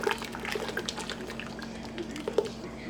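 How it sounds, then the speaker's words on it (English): A cup of vinegar is poured in while making sweet BBQ sauce, a soft liquid trickle and splash heard close up over a low background hum. "We're also going to put a cup"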